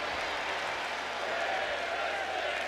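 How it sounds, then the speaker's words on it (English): A virtual arena crowd at a women's wrestling match in the WWE 2K25 video game keeps up a steady, dense roar of cheering and applause that lasts the whole moment. "this crowd fired up for women's wrestling"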